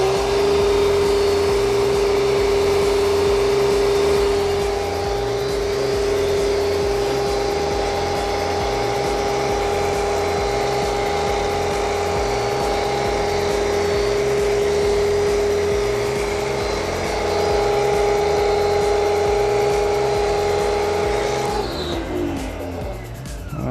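A Kärcher pressure washer sprays shampoo from its nozzle, a loud, steady motor-and-pump drone with a sustained whine, running continuously for over twenty seconds before it tapers off near the end.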